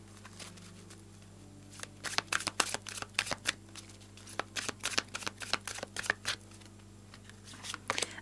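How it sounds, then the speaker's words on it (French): Lise Bartoli oracle cards being shuffled, a run of crisp, quick riffling bursts that come in clusters over a steady low hum, close and fairly quiet with no talk. "on va regarder la suite avec les cartes lumière de Lise Bartoli"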